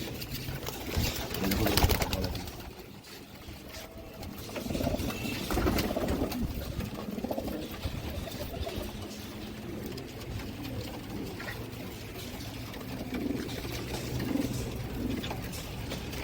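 Pigeons coo in low, throaty calls layered continuously over a busy background of rustling and patter.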